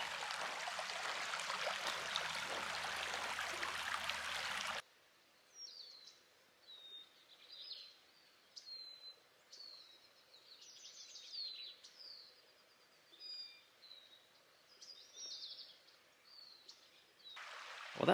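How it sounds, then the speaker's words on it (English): A small flowing stream near Sycamore Reservoir along the Arizona Trail, a loud close rush of water at first, then quiet soft flow with birds chirping and singing in short repeated calls. "Very nice little flowing stream"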